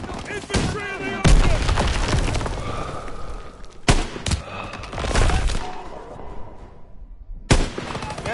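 Bursts of gunfire and booming shots ring out in a World War II video game battle, loud and irregular, mixed with in-game voices and other combat noise.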